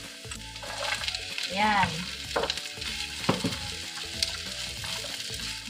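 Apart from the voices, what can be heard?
onions frying and sizzling in a pan with garlic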